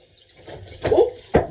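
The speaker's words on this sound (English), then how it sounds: "I'm just going to start off by wetting the face with cold water." Cold tap water splashing in a bathroom sink while someone wets their face, a few short wet splashes and gurgles rising to close, moderately loud bursts, with no talking.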